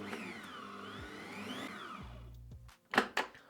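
Stand mixer running on gentle speed, folding flour into thick meringue made from beaten egg whites, a steady whirring motor tone that drops in pitch and stops, followed by a few clattering knocks.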